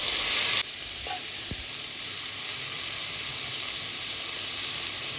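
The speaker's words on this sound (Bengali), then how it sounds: "রসুন আর কাঁচা লঙ্কা কুচিটা হালকাভাবে একটু ফ্রাই করে নিতে হবে" Chopped garlic and green chilli sizzle steadily in hot oil, a close, even frying hiss that runs throughout with a brief louder burst at the start.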